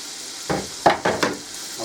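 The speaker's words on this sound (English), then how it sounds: "I'll put in the bacon slices. And while the bacon slices are cooking," Bacon slices hiss in a hot pan, a close steady sizzle lifted by a few short crackling bursts, with no talking.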